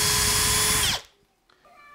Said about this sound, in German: Und dann bohren wir die Hölzer noch vor.